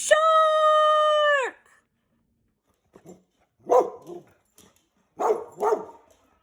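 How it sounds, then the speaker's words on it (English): A dog named Duke lets out one long, sustained bark, loud and close, then falls silent before a few short bursts of voice follow. "Duke was barking right there"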